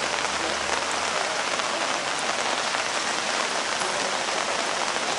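Steady rain falls and patters on surfaces outdoors at an open-air vigil, a dense continuous hiss filling the whole stretch with no voices over it.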